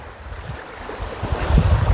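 Wind blows and water rushes at a small dammed waterfall in a durian orchard near Kui Buri, a close, continuous wash of noise that swells slightly toward the end.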